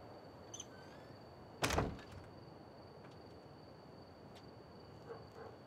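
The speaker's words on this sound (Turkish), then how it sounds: "Hadi gir içeri, kapat kapıyı." A door shuts with one solid thunk at night, standing out against faint crickets and a steady thin high whine, with no one talking.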